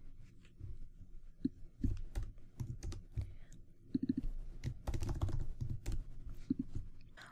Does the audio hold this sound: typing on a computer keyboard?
yes